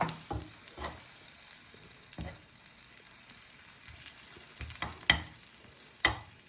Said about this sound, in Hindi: मैं इसको मिक्स कर लें।